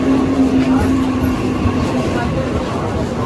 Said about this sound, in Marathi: आता ट्रेन आलेली आहे.